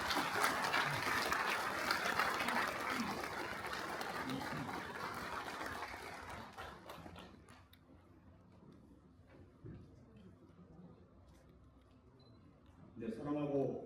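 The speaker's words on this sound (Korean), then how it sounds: "큰 박수 부탁드립니다." A rally crowd at a national committee launch event for a special administrative-capital law claps loudly and densely for about seven seconds, then the clapping fades into a quieter hall before a voice starts at the end.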